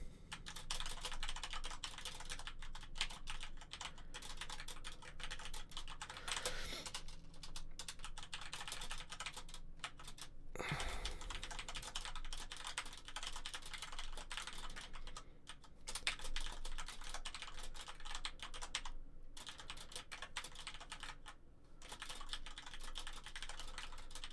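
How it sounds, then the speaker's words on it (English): Steady, fast typing on a computer keyboard runs throughout, dense close clicking with brief pauses and one louder bump midway, no one speaking. "Hold on, I gotta type, and I can't talk and type at the same time."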